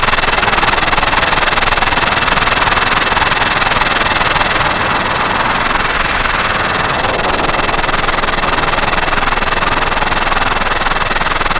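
A homemade noise machine churns out a dense, harsh, loud stream of rough engine-like sputter and roar with delay effects, running without pause for over ten seconds.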